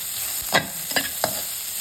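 A whole small onion sautéing in hot oil, a steady hissing sizzle with three quick scraping strokes of a spatula, close and fairly loud.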